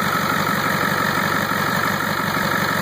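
Diesel engine idling steadily during a closed-loop Liqui Moly diesel purge, a constant close rumble with a rapid knocking pulse and high whine, no talk.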